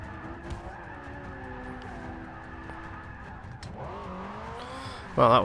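A race car in Forza Motorsport 6 drones at steady engine pitch with shifting revs and tire squeal, ending in a sudden louder burst.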